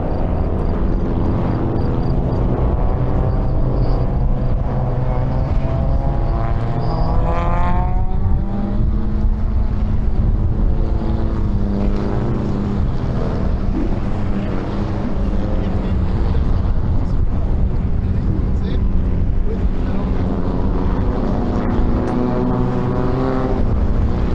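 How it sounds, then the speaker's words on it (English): Swift Cup race cars pull away on a formation lap at Balaton Park Circuit, a steady loud blend of engine drone and rising, shifting revs mixed with wind buffeting on the microphone, continuous throughout. "The guys are off to the formation lap here."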